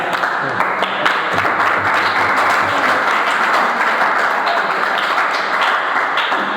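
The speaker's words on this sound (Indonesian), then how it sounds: "Kasih tepuk tangan semuanya." Steady, dense applause from a crowd fills the whole stretch at an even, loud level, with a faint voice beneath it.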